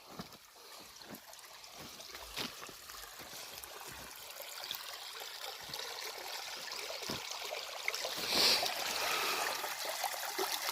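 Water trickles steadily from an irrigation filter machine in a farm field, a faint, continuous flowing hiss that grows slightly louder toward the end, with occasional small knocks.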